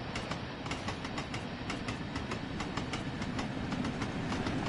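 A train in the video game Train Sim World 3 rolls along steadily, its rumble carrying regular clickety-clack rail joints, with no talk over it.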